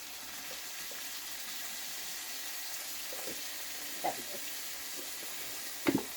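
Minced garlic frying in a hot pan while Philly cheesesteaks are being made, a soft steady sizzle throughout with a couple of faint clinks and taps.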